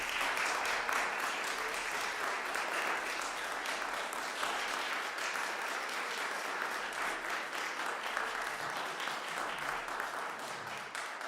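Audience applauding at the close of a holiday concert at a community centre, a dense, steady wash of clapping that holds evenly for the whole stretch with no break.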